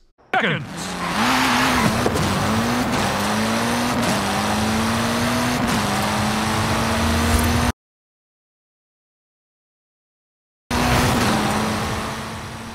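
Ford Fiesta engine in a racing video game, a loud continuous drone rising and dropping through gear changes with some tyre squeal, cutting to silence for about three seconds before resuming.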